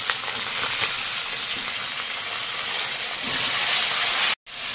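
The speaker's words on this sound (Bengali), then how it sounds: "এবার এর মধ্যে লাউগুলো ছেড়ে দেবো। লাউয়ের মধ্যে কাঁচা লঙ্কাও আছে দিতে।" Chopped bottle gourd and green chillies hit hot oil in a pan, setting off a loud, dense sizzle and hiss that holds steady, then cuts out abruptly near the end.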